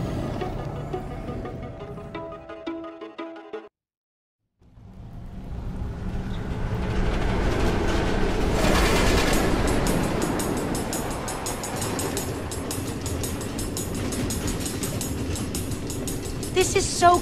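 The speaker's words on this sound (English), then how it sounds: "Automated train tracks running all through the Nether?" A train running on automated tracks in Minecraft: Story Mode on PS4 gives a steady rumbling rail noise. The noise builds after a brief silent gap and stays loud and continuous, with game music heard early on.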